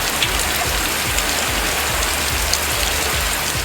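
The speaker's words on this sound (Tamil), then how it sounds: "எந்த ஒரு அறிகுறியும் இல்லாமல் திடீரென மிதமான மழை பெய்தது" Moderate rain falling steadily in Rasipuram, Namakkal district, a dense even hiss of drops with soft patter close by and no voices.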